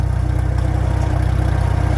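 A Farmall M tractor engine chugs along during a ride, a loud, close, low rhythmic putter with steady even firing pulses.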